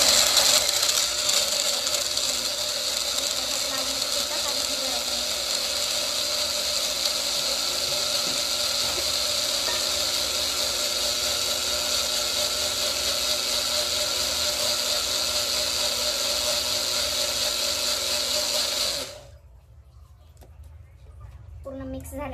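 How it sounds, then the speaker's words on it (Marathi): Electric juicer motor whirs steadily at close range after being switched on, a loud constant mechanical drone that cuts off abruptly near the end, leaving a quieter room. "हे पॅक झाले ज्यूसर। त्यानंतर मी बटन ऑन केलंय, बटन पहिले इकडे ऑन केले।"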